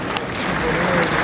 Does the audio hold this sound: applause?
yes